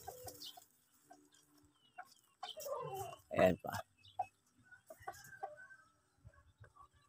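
Chickens cluck and a rooster calls on a provincial Philippine farm, with several bird calls scattered through the clip while someone talks over them.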